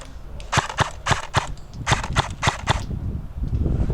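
Airsoft rifle, a NUPROL Nomad Romeo, firing during an outdoor zombie-themed airsoft game: about eight sharp, snappy shots in quick irregular succession, fairly close and loud, with no talking.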